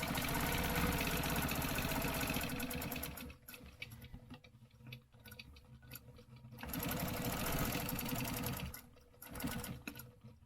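A sewing machine stitches gray thread onto pink fabric, running in long continuous rapid bursts separated by slower, quieter stretches of stitching, close and steady.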